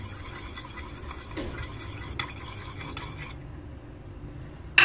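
A spoon stirs saffron food colouring into milk, giving a soft, steady rasping and scraping against the bowl that continues evenly for a few seconds before falling quiet.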